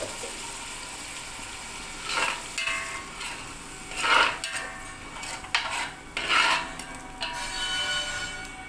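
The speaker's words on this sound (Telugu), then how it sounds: "మిక్సీ చేసుకున్న పెరుగు కూడా ఇందులో యాడ్ చేసుకొని ఫ్రై చేసుకోవాలి." Masala mixed with blended curd fries in a pan, with a low steady sizzle broken by several louder bursts of stirring and scraping.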